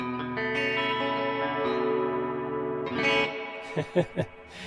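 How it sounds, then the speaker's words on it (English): A sustained electric guitar chord rings out through a wet reverb with vibrato applied to the reverb trail, shimmering and pulsing, followed by a few plucked notes fading into the echoing trail. "you can introduce a like a vibrato onto the reverb"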